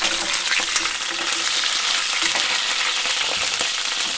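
Pork belly for Dong Po pork frying in a pan after browning on both sides, a loud continuous sizzle with crackling oil and occasional stirring scrapes, no voices.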